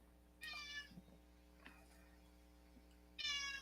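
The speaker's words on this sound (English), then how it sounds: "And you hear that in the noise. It's the kitty right here." A domestic cat meows twice, close by, each call a short bright harmonic cry with a quiet gap between them, over a steady electrical hum and faint room noise.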